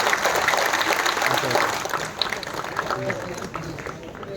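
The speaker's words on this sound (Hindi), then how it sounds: "सब लोग जोर से ताली देकर उनका स्वागत कीजिए" A large crowd at a political rally claps loudly and continuously to welcome a chief minister, the applause mixed with voices and slowly thinning toward the end.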